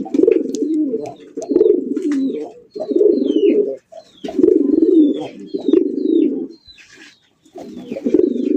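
Koka and Golla pigeons, fancy racing birds kept for sale, coo in repeated low rolling bursts at close range, with short gaps between calls and faint chirps and soft clicks over the top.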